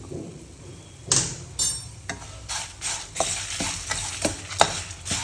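Spoon scraping and stirring dry spices with turmeric in a pan, stove switched off; a series of close, crisp scrapes and clinks at an irregular rhythm, with faint sizzle underneath and no talk.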